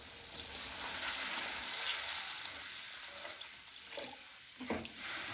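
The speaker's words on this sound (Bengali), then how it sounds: "এবার আমি দিয়ে দেব জল।" Water poured into a pan of sizzling spice paste for a grass carp fish curry, a steady hissing fry with bubbling and a few clinks of stirring near the end.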